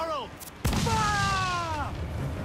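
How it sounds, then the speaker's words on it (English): Ship cannons firing during a naval battle in Assassin's Creed IV Black Flag: one sharp, loud boom hits early and is followed by sustained roaring din, with shouted voices and tonal game sounds layered over it. "Cannon ready! Fire!"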